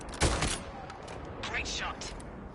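Gunfire from the PlayStation VR shooter Bravo Team: one loud, sharp burst near the start, followed by quieter, scattered shot-like crackles over a steady background din.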